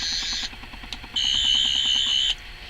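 A toy Eleventh Doctor sonic screwdriver gives two high, shrill warbling electronic tones, a short one and then a longer sustained one, with a faint pulsing underneath.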